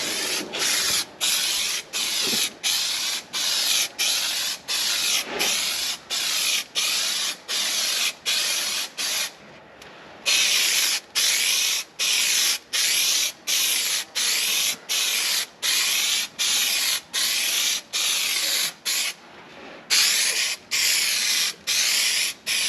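3M high strength spray adhesive hisses from a spray can onto the headliner panels of a 1966 Oldsmobile 442, in steady, close passes broken by brief gaps, with two longer pauses.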